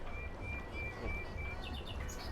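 Birds chirp in the ambient soundscape of a Unity video game, with repeated thin high calls over a soft steady background, fairly quiet and with no talking.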